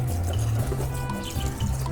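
Water poured over a Dirtsack Max waterproof motorcycle tail bag, a continuous splashing trickle and patter of liquid onto fabric, close and steady beneath a low droning hum.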